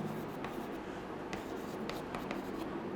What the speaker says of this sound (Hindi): हम फिर से लिख देते हैं